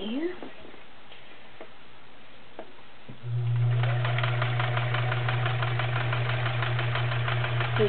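Vintage all-metal Kenmore 1525 convertible sewing machine, a 1-amp machine, starts up after a quiet stretch and runs at a steady, even hum with rapid rhythmic needle clatter, close and alone.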